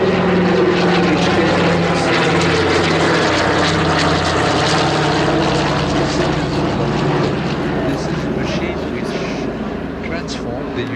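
A Douglas DC-3 propeller airliner drones loudly overhead at an air show, its steady piston-engine roar filling the scene and fading slightly toward the end while a commentator talks over it.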